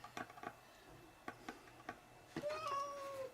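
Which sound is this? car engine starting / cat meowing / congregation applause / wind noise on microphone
cat meowing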